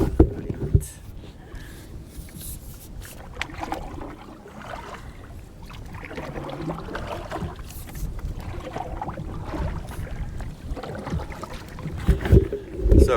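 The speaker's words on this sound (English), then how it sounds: "I need to row a little bit" Paddling an aluminium canoe on open water, with irregular splashes and strokes close to the microphone and gusts of wind noise between them.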